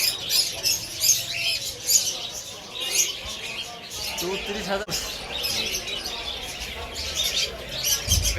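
A crowded bird market with many caged birds chirping and tweeting, dense high twittering that carries on without a break while voices talk over it nearby.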